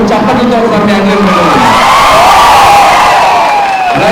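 A crowd at a movie platinum disc function at Sandhya 70MM theatre cheers and whoops loudly, with overlapping shouts and rising calls forming a dense, continuous wall of audience noise.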